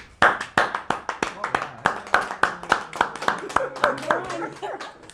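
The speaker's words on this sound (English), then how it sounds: "A round of applause for her, please." A small audience at a tech and equity talk claps for a speaker, sparse, distinct hand claps in a fairly steady rhythm, close and clear, with a faint murmur underneath.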